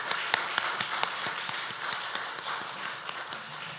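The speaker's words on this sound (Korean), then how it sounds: "우리 최 집사님 잘 또 다녀오시라고 박수하겠습니다" A church congregation claps during a Sunday morning service, a steady wash of many hands with sharper individual claps standing out, moderately loud and continuous for several seconds with no talk over it.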